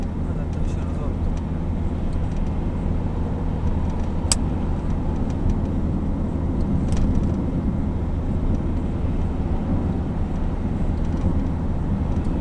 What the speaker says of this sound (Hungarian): mellettem is jön az autó